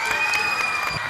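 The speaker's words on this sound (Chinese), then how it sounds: "给他鼓鼓掌好吗？" An audience applauds and cheers at a televised idol competition stage show, a brief, steady wash of clapping and crowd noise.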